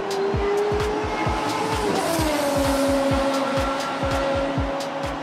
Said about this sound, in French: Ils font monter leur moteur et se préparent pour la course.